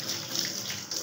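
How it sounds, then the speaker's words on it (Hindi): Cold tap water runs over eggs being washed by hand, a brief steady splashing stream heard up close with no talk. "ये बात याद रखने की, अंडे धोने ठंडे पानी से, कहीं गर्म पानी से ना धोना शुरू कर देना आपने।"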